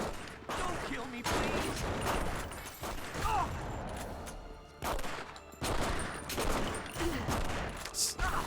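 Shotgun blasts from The Punisher, a third-person shooter on the original Xbox, come in loud bursts with short gaps between them, mixed with dense gunfire and mechanical game noise, and a voice talks over them.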